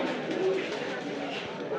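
Pigeons coo amid the busy crowd at the Jinjira pigeon market in Bangladesh, a soft steady murmur of birds blended with constant nearby chatter and market bustle.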